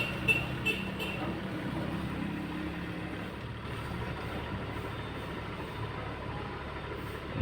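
A stock Honda CR-V engine idles around 1,200 rpm after a cold start, a steady low hum and drone heard up close and largely unbroken, with faint clicks near the start.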